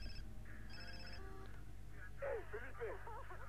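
A phone rings inside the Far Cry 3 video game as a repeating electronic tone pattern, moderately loud over a low steady game ambience, with a voice briefly reacting near the end.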